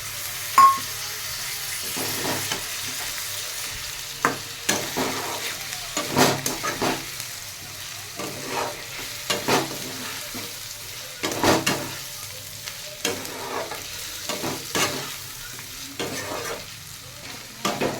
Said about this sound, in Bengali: টমেটোটা দিয়ে একটু ভাজা হয়ে গেছে